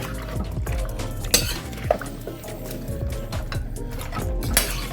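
Ingredients for smothered pork chops are stirred in a crockpot, with wet sloshing, spoon knocks and clinks against the pot at close range, and no talk.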